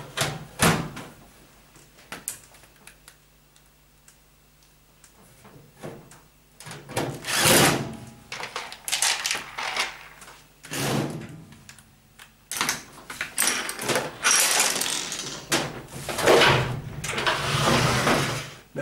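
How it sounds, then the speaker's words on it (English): Someone refits the back cover of a Beko tumble dryer during a capacitor repair. Irregular knocks, clunks and scraping handling noises come in scattered bursts between quiet pauses. "you need to replace the back cover"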